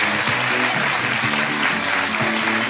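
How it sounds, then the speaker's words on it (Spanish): An audience at a children's presentation at a dance academy gives a loud, steady round of applause. The dense clapping holds evenly throughout. "Último aplauso para ellas, que se lo merecen."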